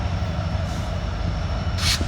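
A coal train with six locomotives eases downhill around Horseshoe Curve toward Altoona, Pennsylvania, with SD70 units holding it back. A steady low rumble of engines and rolling cars carries on, joined by a brief hiss near the end.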